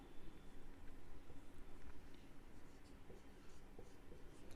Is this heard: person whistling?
no